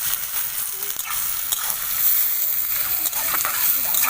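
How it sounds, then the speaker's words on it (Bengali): Onions sizzle and fry in a pan, a steady crackling hiss with a few scraping stirs, close and fairly loud without talk. "পেঁয়াজ এখানে আমার ভালোভাবে ভেজে নেওয়া হয়ে গিয়েছে।"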